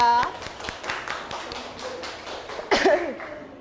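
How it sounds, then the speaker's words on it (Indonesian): Schoolchildren in a classroom clap together in a brisk, regular rhythm of sharp, close claps, roughly four per second, before a teacher's voice cuts in near the end. "Beri tepuk tangan untuk Iza"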